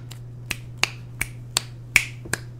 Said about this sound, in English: Don't snap your fingers while doing it.